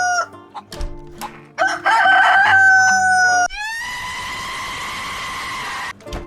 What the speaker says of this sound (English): So badly want to blast that chicken.